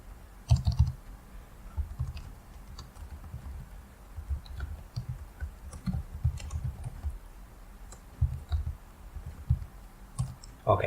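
Keys clack on a computer keyboard while code is typed in the Vim editor, a steady run of soft, close clicks in uneven bursts with short pauses over a quiet background.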